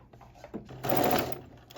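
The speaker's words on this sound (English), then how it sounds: "now you're going to stitch it closed at the very top of the edge of the hem" A sewing machine stitches a sweatsuit hem closed in a brief burst of about half a second, after a few soft clicks, heard close and alone.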